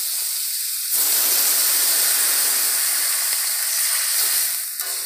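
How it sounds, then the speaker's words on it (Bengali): Water is poured into a hot pan of frying potatoes, setting off a sudden loud hiss of steam and sizzling that surges and holds steady for several seconds before easing, with no talking. "এবার আমি দিয়ে দিচ্ছি জল।"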